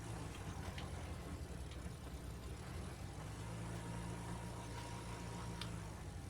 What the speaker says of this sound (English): I don't think this tractor's ideal for this seeder